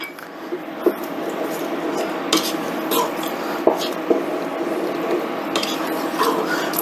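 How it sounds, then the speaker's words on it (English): A spoon stirs black beans with water and seasonings in a pot, giving continuous scraping and occasional light clinks against the metal over a steady background. "Stir that in"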